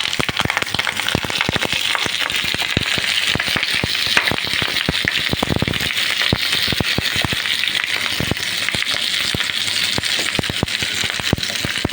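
Palm fruit batter poured into hot oil on a banana leaf, crackling and sizzling loudly with dense, rapid pops throughout, close up and without any talk.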